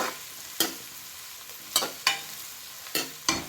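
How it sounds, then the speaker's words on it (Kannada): Onions frying in a pan for crab sukka, with a low steady sizzle broken by several sharp scraping strokes of a spoon against the pan at irregular intervals, close and fairly quiet, no voices. "ಈರುಳ್ಳಿ ಪಾಡಿಯ ಲಾಯ್ಟ್ ಮಾಡ್ಕೊ ಫ್ರೈ ಮಾಡ್ತೀಗ"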